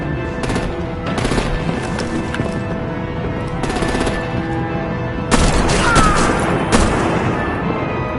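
Artillery and heavy gunfire in the game Batman: The Telltale Series, with loud rapid bursts and booms that hit in clusters, the heaviest barrage coming near the end.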